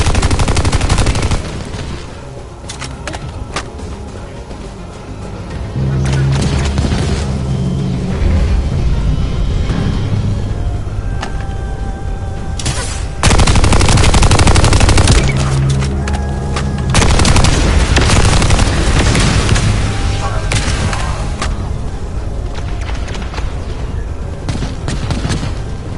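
Turret gunfire in the video game The First Descendant, loud and continuous: dense rattling bursts with heavy booming hits over a busy game soundscape for the whole stretch.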